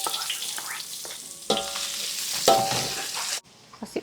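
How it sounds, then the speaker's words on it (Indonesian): Water spinach is stir-fried in a pan still oily from frying fish, giving a loud continuous sizzle with scraping stirs and bursts as ingredients are added, fading sharply near the end. "Di sebelah sini kita mau masak tumis kangkung."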